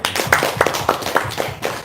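Audience at an Islamic study gathering clapping hands, a short burst of loose, uneven claps close by that fades out within two seconds.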